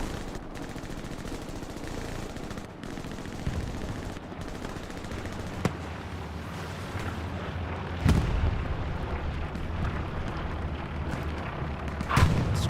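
Heavy battlefield din from Hell Let Loose, with rocket fire and explosions: continuous rumbling gunfire broken by several sharp, loud blasts, especially near the middle and end, with no voices.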